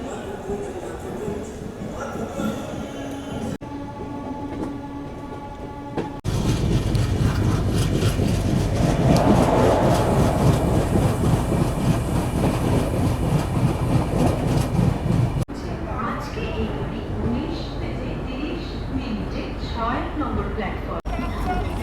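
The 18409 Sree Jagannath Express passenger train, travelling from Kolkata toward Puri, rumbles and rattles steadily from inside the coach. The noise swells loud through the middle, and voices can be heard throughout.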